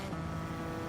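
A Suzuki Escudo Gr.3 rally car in Gran Turismo 7 revving high in its rev range, a steady droning engine tone held at a constant pitch for a brief moment.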